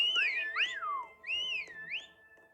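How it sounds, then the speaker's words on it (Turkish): Bright, sliding whistles from characters in a video game rise and fall in short melodic phrases, two clear bursts with a brief pause between them, close and clean. "Oğlum niye sürekli ıslık çalıyorlar?"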